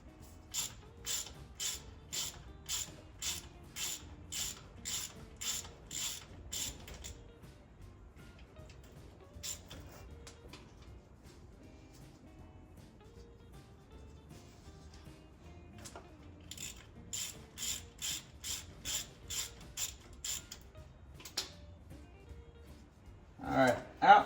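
A hand ratchet clicks rapidly in steady runs while removing bolts from an NP205 transfer case support bracket, close and crisp, with pauses and quiet talk between the bursts.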